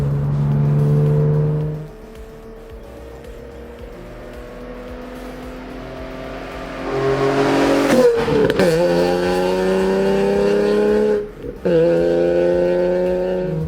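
A 2007 Nissan Z33 Fairlady Z with a high-revving VQ35HR engine, heard from inside the car: a loud engine drone that rises in pitch as it revs, with gear changes and repeated climbs, no talking.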